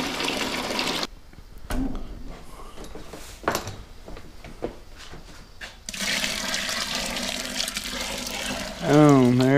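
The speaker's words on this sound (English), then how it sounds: "Now I just add this hot water that we brought to temp, about 170, into the mash tun." Hot water heated to about 170 degrees is poured into a mash tun while brewing beer at home, making a steady rushing, splashing stream that stops briefly, then surges back louder before ending.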